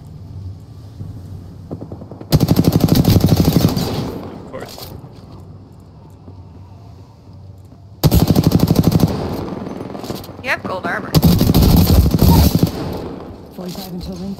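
Bursts of automatic gunfire in the Apex Legends battle royale, loud sustained machine-gun volleys in three stretches with quieter gaps, some talking mixed in.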